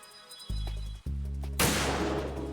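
A Metal Gear Solid 2 game sound plays: two short tonal electronic blips are followed by a sudden loud burst of gunfire noise that lingers to the end, with no talking.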